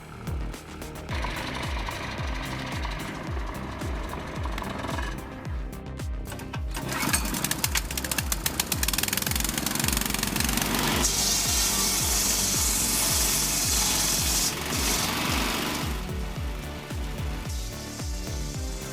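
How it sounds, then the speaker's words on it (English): A homemade firewood processor with a built-in saw and splitter runs loud and close, a steady mechanical grind with a rhythmic low pulse and harsh cutting noise that builds and continues throughout. "This homemade wood processor does exactly that. With a built-in saw and splitter, it turns back-breaking labor into an effortless task."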